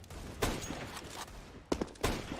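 Gunfire in CS:GO on the Cache map during a FaZe versus EnVyUS ECS Season 5 Europe match: several sharp shots ring out, a single crack and then a close pair near the end, over a low game background.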